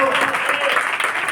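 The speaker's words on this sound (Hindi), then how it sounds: "क्लैपिंग कर दो, ताली बजा दो।" An audience claps at a Hindi-language church sermon, with dense, steady applause throughout under a mix of voices.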